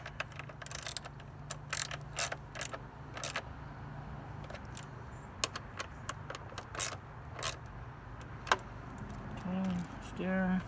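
A wrench working on a Honda Trail 125 motorcycle gives scattered close, quiet metallic clicks and ratcheting taps over a low steady hum, with a few louder clacks toward the end.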